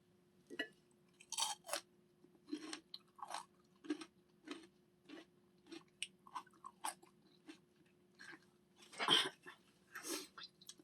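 Someone chewing raw red paprika (winter bell pepper) up close, a string of separate crisp, wet crunches and bites in an irregular rhythm, with a steady low hum underneath and no talking.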